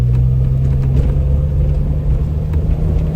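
A 1982 DeLorean DMC-12 driving on the road, its engine giving a steady, loud low hum with rumbling road noise and no change in pace.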